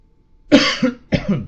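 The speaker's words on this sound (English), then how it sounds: "That's just me coughing." A person coughs twice in quick succession, close and loud, each cough a sharp burst with a short rough tail, in a quiet room.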